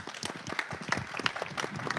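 Scattered audience applause for a distinguished speaker at a cultural festival session, a few seconds of irregular hand claps, moderately loud and fairly close, with no talking over it.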